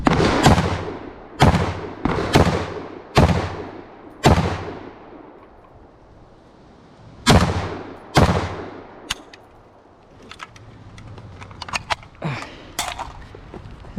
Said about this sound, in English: That's a heavy gun.